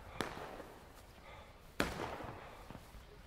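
Gunfire volley in a video game battle: two sharp cracks a second and a half apart, the second louder, with faint popping after, over a low background hum and no talk.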